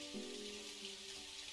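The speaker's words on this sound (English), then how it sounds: "Still raining." Rain falls steadily as a soft, faint hiss in the video game Dinkum, with a sustained tonal game sound layered briefly over it.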